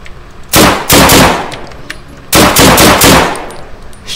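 Gunfire in the survival shooter DeadSide, two loud close bursts of rapid shots, each lasting about a second, separated by a short lull.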